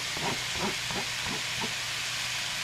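Onions go into a pan of browning ground meat, giving a steady hiss of frying with a few soft bumps of stirring or food dropping in near the start, close and moderately loud with no talking.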